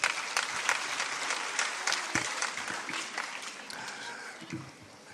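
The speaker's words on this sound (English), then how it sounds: "they all deserve a huge round of applause" Audience applause at a state-level competition event, steady dense clapping from a crowd filling the whole stretch, fairly loud and continuous before tapering slightly at the end.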